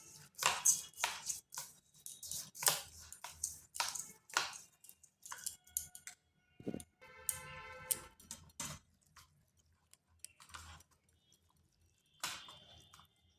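Torn pieces of bread being mixed by hand with sugar and a pinch of salt: close, irregular soft squishing and crackling bursts that thin out toward the end, with no talking.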